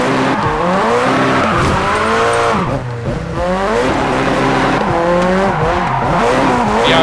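Car drifting in the video game Japanese Drift Master, a loud revving engine with rising and falling pitch and sustained tire squeal, heard from a rear-wing camera view with no voices.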